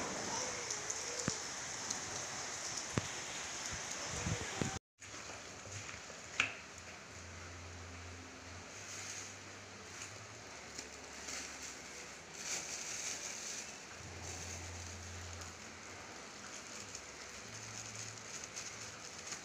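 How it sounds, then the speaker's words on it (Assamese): Rain falling during rainy weather at home, a steady, quiet patter and hiss of drops with scattered sharper ticks, broken briefly by a short silent gap and some low background rumble. "আজি বৰষুণৰ বতৰ"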